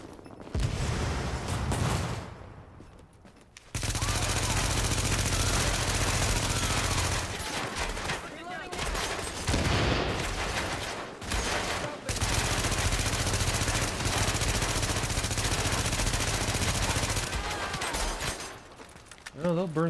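Heavy, sustained automatic gunfire rattles through a firefight in The Division, loud continuous bursts with brief gaps in between, while in-game voices talk over the shooting.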